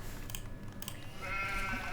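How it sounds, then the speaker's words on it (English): Flock of sheep in a farming simulator game on an estate, bleating briefly against a steady ambient game backdrop, with a higher sustained tone rising near the end. "there should be some sheep somewhere"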